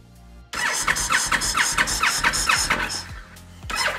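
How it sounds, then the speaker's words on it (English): A 2013 Honda VT1300 Stateline engine cranks without starting, a rapid, rhythmic starter churn that turns over repeatedly for about three seconds, close and loud, then briefly cranks again. "and then we will crank"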